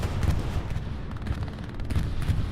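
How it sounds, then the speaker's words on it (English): A wartime bombing run in the World War II shooter Hell Let Loose, heard as a dense, continuous low rumble of distant explosions and gunfire filling the whole stretch without a break. "I'm starting to hear a bombing run coming in"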